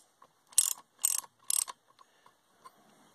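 A ratchet wrench clicks in three quick bursts of turning while an engine fan is held in place during an engine and transmission teardown, followed by a few faint scattered clicks; close and fairly quiet.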